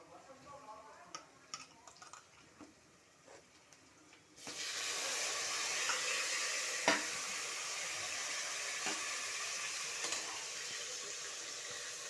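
Tomato and ginger-garlic paste hit a hot pan with a sudden broad sizzle partway in, then fry steadily with a few stirring clicks and scrapes; quieter kitchen sounds come before it, and a voice speaks softly.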